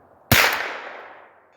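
A rifle round hits a steel target with one sudden bright metallic clang that rings out and fades gradually over more than a second, with no one speaking.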